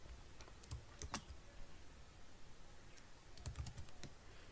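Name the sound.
typing code on a computer keyboard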